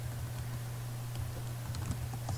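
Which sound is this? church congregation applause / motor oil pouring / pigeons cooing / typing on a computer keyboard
typing on a computer keyboard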